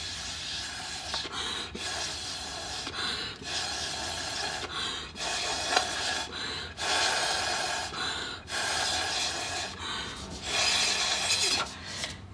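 Repeated bursts of breath blown through a drinking straw, pushing drops of colored water across paper; six or seven close, breathy puffs of a couple of seconds each, with brief pauses between and no talking.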